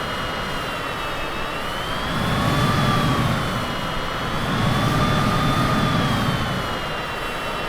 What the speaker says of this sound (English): so obviously the engine sounds pretty generic